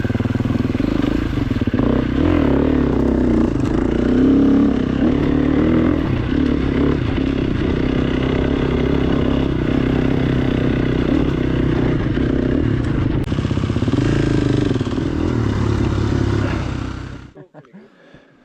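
An off-road motorcycle engine idles and rumbles loudly and steadily close by for most of the clip, then cuts off abruptly near the end.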